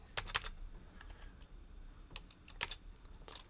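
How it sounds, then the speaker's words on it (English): Number keys tapped on a computer keyboard, a few close, quiet clicks in two small bursts with short pauses between, no voices. "I could type 90 and then 81"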